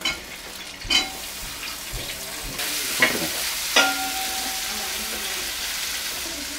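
Two medium onions drop into a pan with ginger and fenugreek for a Malabar fish curry on a Kerala houseboat. The sizzle swells loudly after a few scattered clunks, then continues with occasional stirring knocks and no talking.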